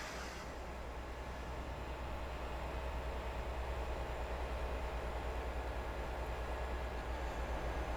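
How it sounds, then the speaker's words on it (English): Train Sim World 6 video game train pulling out of a station on a new UK route, a steady loud low rumble with broad hiss held evenly throughout, no talk. "The other train must have pulled out."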